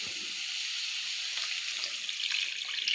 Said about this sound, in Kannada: ನೀರು ಹಾಕೋತೀನಿ.